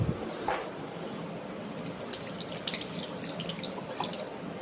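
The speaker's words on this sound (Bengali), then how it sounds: "হাত দিব হাতটা ধুয়ে নেই দাঁড়াও" Tap water runs steadily into a sink as hands are washed at a vegetable market stall, a continuous close splashing hiss with a few faint clinks and no clear talk.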